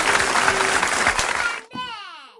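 Clapping at home for a child's song during a cousins' spin-the-wheel game, a loud burst of hands for about a second and a half, then cut off as a voice speaks.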